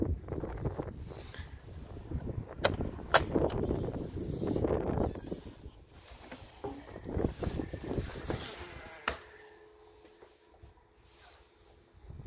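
Wind buffets the microphone outdoors at an RV dealership in loud, uneven rumbling gusts, with a few sharp knocks and a calmer stretch near the end.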